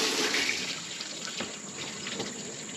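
Water from a garden hose flushes the radiator of a 1994 Ford F-150, a steady hissing spray with some splashing at moderate distance, continuous throughout and without any talking.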